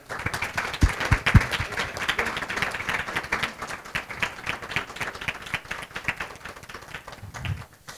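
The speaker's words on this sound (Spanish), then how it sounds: "Un aplauso." An audience at an academic talk on Maximilian's gardens in Mexico gives a round of applause, with uneven clapping of moderate density, some sharp close claps early and a few louder bursts, fairly distant overall.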